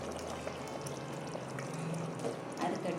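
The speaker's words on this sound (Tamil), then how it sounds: "எனக்கு இந்த அளவுக்கு கிரேவி போதும், அதனால் நான் இந்த அளவுக்கு தண்ணி ஊற்றிக்கிறேன்." Water pours into a pan of spicy chicken gravy, a faint, continuous trickling splash heard alone for a few seconds.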